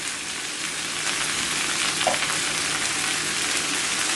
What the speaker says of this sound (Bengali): সব কিছুকে আমি নেড়ে চেড়ে নিচ্ছি আমি আর দু এক মিনিট এটাকে ভাজবো